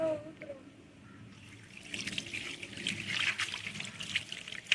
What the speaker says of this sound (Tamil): தண்ணி திறந்துடுறா